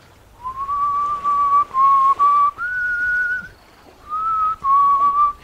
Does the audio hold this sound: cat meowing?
no